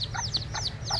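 Newly hatched chicks of a speckled hen peep rapidly in high, sliding chirps, several in quick succession, close by over a low background hum with soft lower clucking notes.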